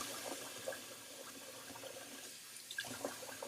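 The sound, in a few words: water running from a tap to fill a sink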